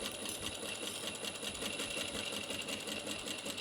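Sewing machine back stitching a quarter-inch seam on a small pleated fabric bag, a continuous fast mechanical whir and needle chatter, steady and close, heard alone without talking.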